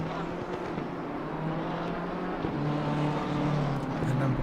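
A BMW race car engine at Hungaroring in a PC racing sim drones steadily for the whole stretch, with rising and shifting engine tones of other cars in a busy field, loud and continuous.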